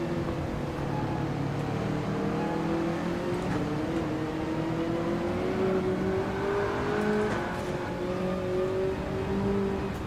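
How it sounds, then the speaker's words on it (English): Ferrari race car engine with turbo spooling up in Gran Turismo 7 at the Nurburgring, a steady droning whine that rises gradually in pitch, loud and continuous without speech. "The turbo spooled up. My little Ferrari, it's a speedboat."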